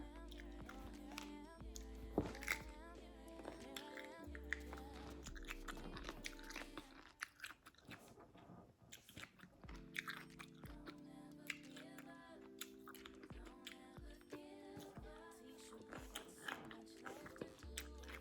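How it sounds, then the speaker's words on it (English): Someone chews cucumbers with mustard up close, making repeated wet, crunchy bites and mastication over a steady musical backing with no talking. "this is a lot of chewing"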